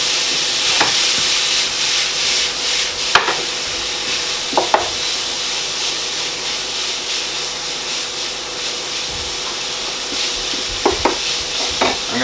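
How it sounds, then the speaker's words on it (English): Minced meat browning in a pot over very high heat gives a loud, continuous hissing sizzle, broken by occasional sharp scrapes and knocks of a spoon stirring, close and with no voices. "I'm just going to brown the meat off."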